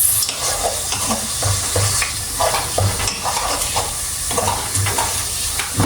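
Onions, peppers and mushrooms frying slowly in a pan give a steady close sizzle, broken by rhythmic scraping and stirring strokes throughout, with no one speaking.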